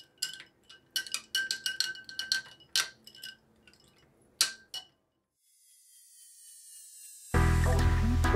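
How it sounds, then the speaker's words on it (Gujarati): A spoon stirs raw mango sharbat with ice in a glass, giving a string of bright, close clinks against the glass. The clinks stop, there is a near-silent pause, and a loud low rumble starts at the very end. "ચમચીની મદદથી આ રીતે મિક્સ કરી લઈશું."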